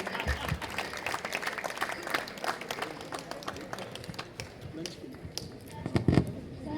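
A school audience at a Kendriya Vidyalaya foundation day and alumni meet claps in a dense burst of applause with distinct sharp claps, tapering slightly toward the end while voices murmur underneath.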